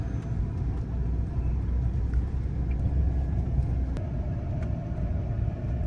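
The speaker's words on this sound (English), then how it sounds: "We turned on another dirt road." A car rolls along a dirt road with a steady low rumble and road noise filling the whole stretch, close and constant, with faint rattles and a brief knock partway through and no talking.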